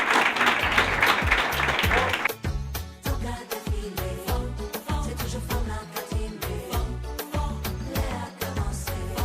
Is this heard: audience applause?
yes